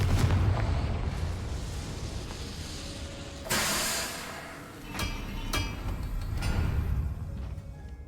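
A Confringo blast spell explodes in the video game Hogwarts Legacy, a sudden loud burst with a hissing, rumbling tail that stands out over steady game ambience, followed by smaller bangs and crackles.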